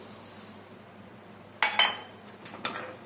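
A few sharp metallic clinks of a spoon against a container ring out, quietly and sparsely, as six spoons of sugar are added for an almond custard milkshake, with near silence between the taps.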